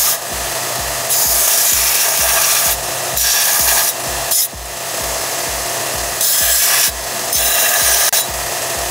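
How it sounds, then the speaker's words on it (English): A belt grinder with a worn 36 grit belt grinds the surface of a Damascus steel billet, making a steady, loud rasping hiss. The tone swells and eases in repeated passes over several seconds, and there is no speech. "So I go with a used 36 grit belt just to grind the surface off and not build up a lot of heat."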